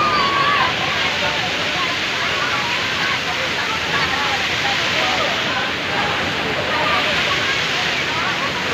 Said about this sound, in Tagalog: Sarap ng falls oh.